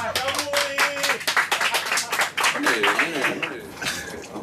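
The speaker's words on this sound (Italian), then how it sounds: "Un applauso al comandante, a lui!" A group claps for a naval commander with sharp, uneven handclaps. Voices speak and call out over the applause, which thins toward the end.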